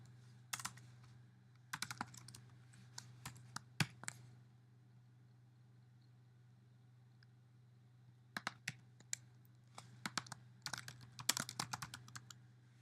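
Computer keyboard typing in short bursts of quick clicks, separated by a long quiet gap, fairly close against a steady low hum.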